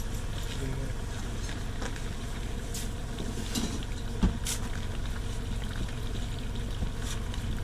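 Water runs steadily from a newly installed water main, a constant broad rushing wash with occasional brief knocks and a distant voice.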